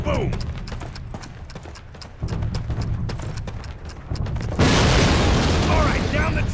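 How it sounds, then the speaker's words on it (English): Heavy booming and rumbling of cannon fire and explosions in a Call of Duty game, building to a loud roaring burst, with rapid clattering impacts throughout. "take cover. This cannon's about to go boom."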